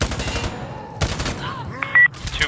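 Enemy gunfire in the shooter game Insurgency: Sandstorm comes in several loud, close bursts of rapid shots, separated by short lulls, with a faint voice under the action.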